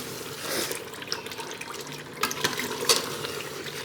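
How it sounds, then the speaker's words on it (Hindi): Water being poured from glasses into a pot of frying beef for nihari, a splashing, running pour that swells and eases in bursts, with a few sharper sizzling spatters near the end and no talking. "3 गिलास मैंने पानी इसके अंदर ऐड कर दिया है।"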